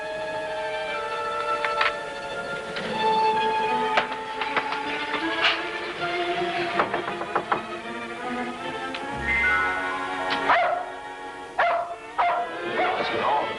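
Dog barking and yipping during a thunderstorm, scattered sharp barks and whimpers amid rumbling and ringing tones, fairly close and loud, mixed with other sounds.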